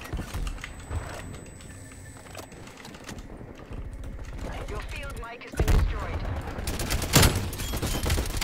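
Gunfire in Call of Duty Black Ops Cold War, rapid bursts of automatic fire mixed with clicking keyboard taps, growing louder with sharp shots near the end.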